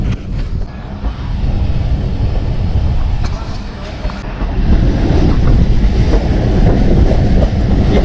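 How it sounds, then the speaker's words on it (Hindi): Passenger train pulling out of Dorata railway station, a continuous heavy rumble of wheels and carriages that grows louder as it gathers pace, with wind buffeting the microphone throughout. "दूसरा विसल भी दे दिया जी। ट्रेन हमारी चल पड़ी है।"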